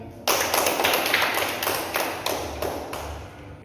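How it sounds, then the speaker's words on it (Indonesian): Classroom of students clapping for a student presenter, a loud burst starting abruptly and continuing as a dense patter of hand claps with rhythmic accents, fading slightly toward the end. "beri tepuk tangan kepada"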